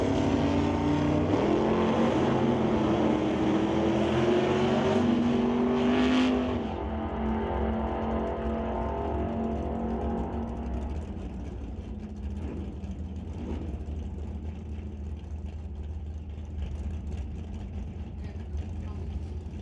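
Drag race cars, including a 1967 Camaro, roar loudly at a drag strip, a rising engine drone that drops off after several seconds into a fading, distant rumble under an announcer's voice.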